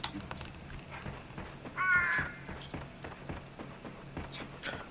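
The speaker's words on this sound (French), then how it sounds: "Oh non, il y a eu un corbeau." A single crow caws in the Bigfoot video game, brief and fairly clear over soft footsteps and ambient game sound.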